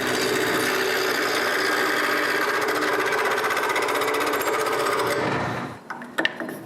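Square-cornered wooden blank spinning on a wood lathe under a cutting tool, a steady loud rasping scrape that runs on for several seconds and then stops abruptly, followed by a couple of light knocks.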